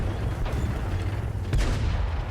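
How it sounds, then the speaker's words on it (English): An E50M tank fires its gun in World of Tanks, a heavy booming shot standing out near the end over continuous low engine rumble and battle noise, with no talking. "E50M fires."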